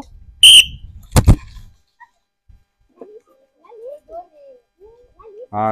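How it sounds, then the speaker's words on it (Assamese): A sharp, shrill whistle blast rings out to start a game, followed by a loud clap-like thump, then scattered faint voices and high yelps in a quiet space. "এতিয়া মই হুইচেল বজাই দিয়াৰ লগে লগে তোমালোকে খেলটো আৰম্ভ কৰিবা।"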